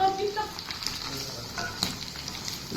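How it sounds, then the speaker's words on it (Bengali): Chicken fries in hot oil with a steady, close crackling sizzle and scattered sharper pops. Some tonal kitchen sounds drift in near the start. "গরম গরম চিকেন ভাজা হচ্ছে এখন"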